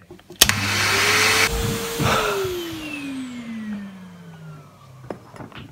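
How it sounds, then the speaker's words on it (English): A household Hoover vacuum cleaner whirs steadily after a sharp click, its motor pitch gliding slowly downward as it winds down, with a brief thump partway through and quieter rumble toward the end. "Sounds like a Hoover."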